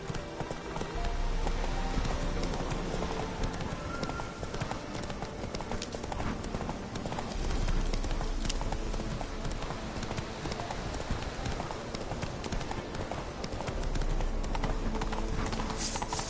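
A horse galloping in The Witcher 3 video game, with dense, rapid hoofbeats pounding continuously and loudly throughout.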